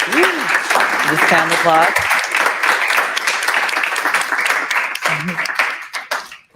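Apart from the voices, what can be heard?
round of applause for the presenter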